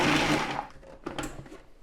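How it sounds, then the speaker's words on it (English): A food processor pulses a chunky walnut mixture for crabcakes, a brief whirring burst followed by a few short, choppy pulses of blade noise. "Into the food processor, we are just going to pulse these very gently."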